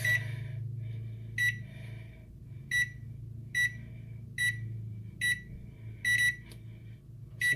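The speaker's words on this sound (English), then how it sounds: "Set the cook timer to" An oven control panel beeps as the cook timer is set, a near, clear series of about nine short electronic beeps at uneven intervals over a low steady hum.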